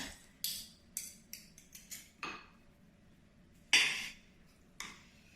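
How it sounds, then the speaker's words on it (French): A spoon clinks against a bowl of tuna croquette mixture, giving a series of close, light metallic taps and scrapes, with one louder knock near the end. "Et là, on va venir prendre une cuillère."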